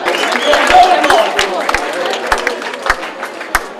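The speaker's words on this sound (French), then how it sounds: "Applaudissements pour David Delage." A crowd at a trail race awards ceremony applauds a runner in a sustained burst of clapping with a few sharper claps, while a voice speaks over it at the same time.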